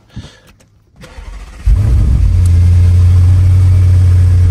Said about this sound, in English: try start the engine and we will see what's gonna happen.